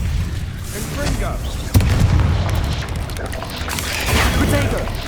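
A Confringo blasting curse exploding in the Hogwarts Legacy wizarding video game: a sudden close impact boom followed by a rumbling, crackling blast tail over continuous low battle noise, with a voice casting spells in the mix.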